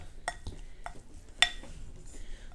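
A spoon mixes salmon roe in a small Pyrex glass bowl, giving a few sharp clinks and scrapes against the glass at an irregular pace, close and fairly quiet.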